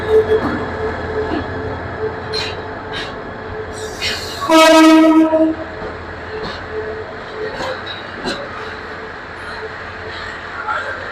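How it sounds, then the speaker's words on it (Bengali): A train pulls into Kamalapur railway station in Dhaka with a loud horn blast partway through, over a steady rumble of wheels and station bustle. "কত সুন্দর একটা ট্রেন এখানে আসছে"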